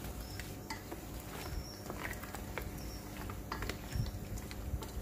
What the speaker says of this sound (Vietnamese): bây giờ các bạn hãy đập 2 cái trứng vô trong cái tôm này để mình ướp luôn á. Và các bạn sẽ trộn đều lên nha